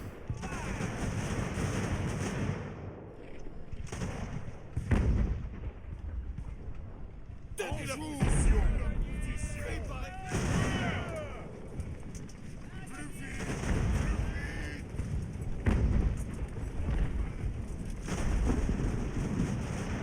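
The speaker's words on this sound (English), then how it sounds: "Okay, mortars." Mortar fire in the naval game Ultimate Admiral Age of Sail: deep booming blasts and rumbling impacts over continuous battle noise, with a voice talking at times.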